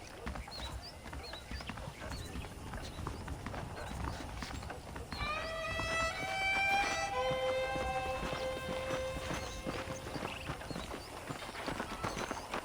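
Steady hoof clip-clop in the video game Red Dead Redemption, over a busy outdoor ambience, with a horse's whinny rising briefly in the middle; medium distance, moderately loud throughout.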